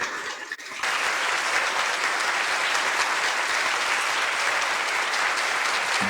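A large audience breaks into applause for Nia and Bruce Gentle Bear, starting abruptly after a brief quiet moment and then holding as steady, loud, many-handed clapping to the end.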